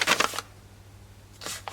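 Scissors snipping crisp, coffee-dyed music sheet paper, heard as two short bursts of dry crackly cutting and rustling, close up, with a quiet gap between them.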